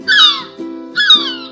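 A bat makes two shrill, harsh screeches separated by a short pause, loud and close, over a faint steady tonal background.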